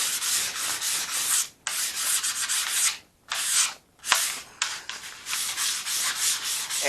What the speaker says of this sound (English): we're going to use a flat block. And we're going to just sand this real light.